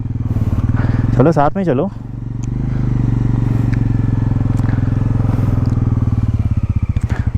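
A motorcycle rides through sand toward Nyoma village in Ladakh, its engine a steady loud close throb throughout while a rider speaks briefly over it.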